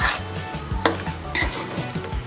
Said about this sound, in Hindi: इसको अब अच्छी तरीके से हमें भूनना है फ्लेम आप बिल्कुल मीडियम पे रखिएगा